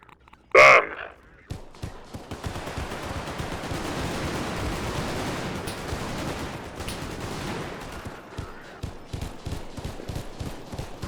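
Gunfire in Garry's Mod with the Half-Life Resurgence addon: one loud shot, then a long sustained rattling burst of automatic fire fading into rapid scattered shots.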